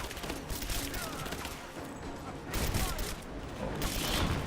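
Dense bursts of assault rifle fire and explosions in Rise of the Tomb Raider combat, a continuous loud clatter of shots with booms under the din.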